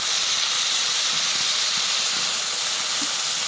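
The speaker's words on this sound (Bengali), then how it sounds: "দিয়ে দিচ্ছি কেটে রাখা আলু।" Cut potatoes and salt hit a hot pan, producing a dense, steady hiss of sizzling oil that stays loud and even throughout, with faint low knocks underneath.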